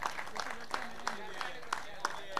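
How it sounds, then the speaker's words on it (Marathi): An audience claps at a prize ceremony for a local rubber-ball cricket league, light rhythmic hand claps at an even pace, fairly faint and a little distant in a room with a soft background hum. "याच्यासाठी टाळ्या वाजवत."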